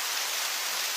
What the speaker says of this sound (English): Still raining, even harder.